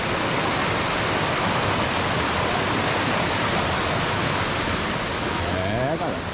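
A river swollen after heavy rain rushes loudly and continuously, a broad, steady roar of water filling the whole clip with only slight variation near the end.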